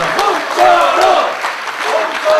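An audience claps at the close of a 2016 Gimpo parliamentary candidate debate, the applause a steady crackling wash under a speaker's amplified voice.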